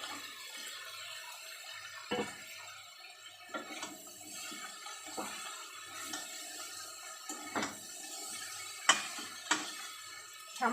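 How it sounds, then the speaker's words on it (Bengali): Water poured into a pan of fried shrimp curry cooked with garlic, a soft running, bubbling wash punctuated by several sharp clinks of a utensil against the pot. "সামনে একটু জল দেবো"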